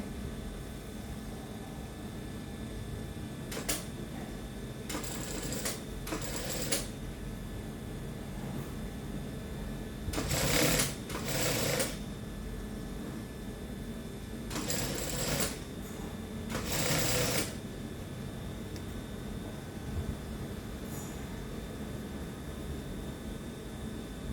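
A sewing machine stitching the hem of a dress with a ruffled flounce, running in several short bursts of whirring stitches between pauses over steady background hiss, no talking.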